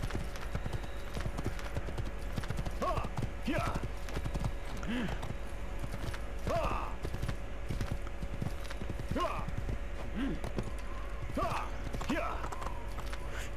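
Horse hooves beat in the Assassin's Creed video game as steady clip-clop strikes with a creaking undertone, moderately loud. Voice sounds appear intermittently alongside the hoofbeats.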